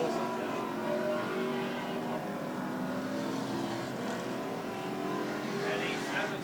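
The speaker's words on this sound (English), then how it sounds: "87's a loud car." A loud V8 race car, number 87, roars around the track during a Pro V8 enduro race, its engine droning steadily amid other cars while a commentator talks over it.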